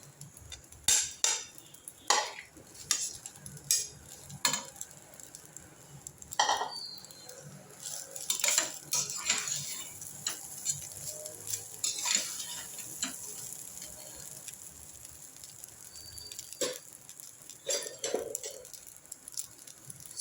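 Uncooked ordinary rice tipped into a pan with carrot and stirred: scattered utensil clinks and scraping taps with a soft, uneven rhythm, close by, and no talking.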